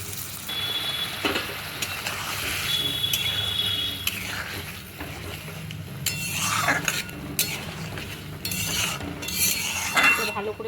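A spatula stirring and scraping a spice paste of cumin, turmeric, chili and coriander in a pan, with repeated metallic clinks and scrapes over a low sizzle, close and fairly loud, no one speaking.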